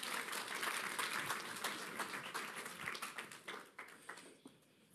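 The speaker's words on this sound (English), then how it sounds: "let's give him a round of applause as he comes" A church congregation at Sedgley Community Church in the Midlands claps for a guest, a dense wash of applause that stays steady before thinning into scattered, separate claps and fading near the end.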